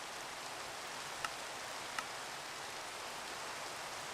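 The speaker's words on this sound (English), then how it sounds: "I do want to turn the rain off again." Steady rain hisses in a Fortnite Creative world, a soft even wash of falling drops with a couple of faint ticks, no voices.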